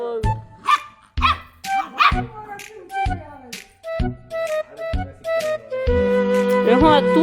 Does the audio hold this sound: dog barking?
yes